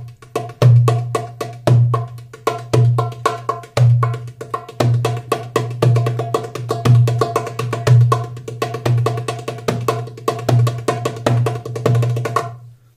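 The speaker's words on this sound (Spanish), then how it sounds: "Vale, el siguiente ritmo suena así." Darbuka playing rhythm 43, a steady pattern mixing deep low strokes with sharp high slaps, crisp and close, repeating evenly for about twelve seconds with no voices.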